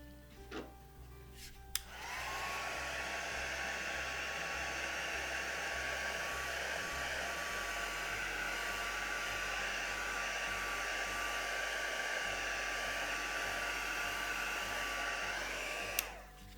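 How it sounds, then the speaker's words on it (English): A heat gun blows over a mixed media journal cover, switching on with a click and then roaring with a steady, loud, even hiss before clicking off near the end, with no voices. "I will just go over it slightly with a heat gun just to make sure."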